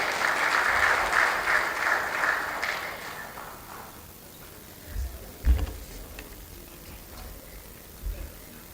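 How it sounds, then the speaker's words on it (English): A conference audience at a regional women, peace and security meeting applauds after a talk, a loud burst of many hands that fades within a few seconds, followed by quieter room noise with a few soft knocks. "let's give another round of applause for Dr. Lydia Umar as she takes her seat."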